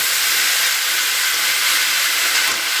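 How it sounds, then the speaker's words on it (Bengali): Water hitting a hot pan of mixed vegetable curry, a steady loud broadband hiss of sizzling steam that holds evenly throughout, close up with no talking. "এবার দিয়ে দিচ্ছি জল।"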